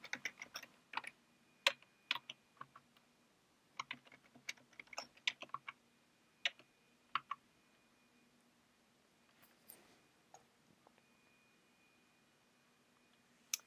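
Irregular keystrokes on a computer keyboard as a password is typed during an Ubuntu install on a Synology virtual machine, quiet clicks in short bursts with pauses, over a faint steady hum.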